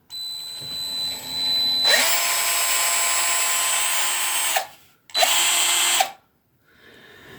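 A Black and Decker cordless drill whirs loudly in two bursts, a long run of nearly three seconds followed by a shorter one after a brief stop, with faint handling noise before and between them.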